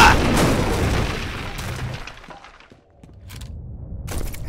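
Loud booming video game explosions and crashing debris fill the start, fading into a lull before more distant thuds and bursts return.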